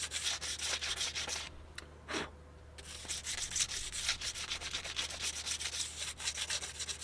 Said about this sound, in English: I'm just going to use a bit of sandpaper just to get rid of this muck that's in here